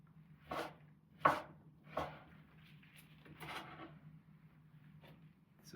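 A knife chopping tomatoes for a raw organic salad: several separate, fairly quiet cuts, spaced about a second apart, against a low background hum.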